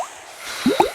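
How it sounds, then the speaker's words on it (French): A soap bubble is blown in a Peppa Pig cartoon: a soft breathy rush swells, then two quick wet squishy pops and bubbling blips close the moment, fairly loud with no talk. "Vous devez souffler. Souffler. Et souffler encore une fois. Souffler. Et la bulle va se former."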